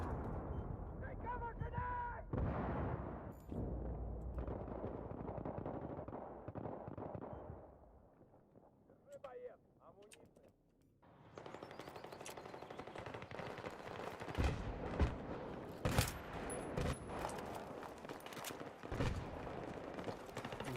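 Suppressed gunfire in the Battlefield 3 video game on PS3, a steady run of muffled shots and game noise that drops away briefly midway and then returns with sharper bursts, with a voice talking over parts of it.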